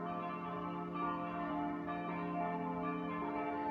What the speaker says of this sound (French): on a un concert de cloches